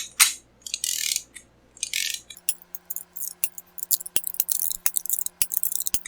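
A ratchet wrench clicks in quick rapid bursts while valvetrain bolts are snugged down on a small block engine, close and crisp, with no voices.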